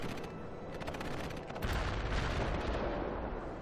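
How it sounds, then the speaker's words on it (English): Artillery strike in the video game World In Conflict, heard as a dense, continuous wash of rumbling blasts and crackling detonations that swells louder midway and keeps roaring without pause. "Commence artillery strike."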